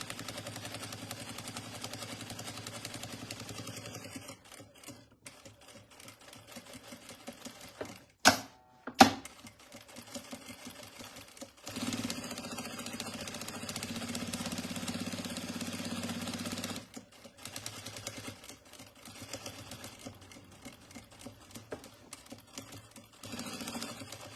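A sewing machine runs a seam on a crossbody bag, a steady mechanical whir with rapid needle ticking across most of the stretch, briefly stopping and restarting, close and moderately quiet with no talking.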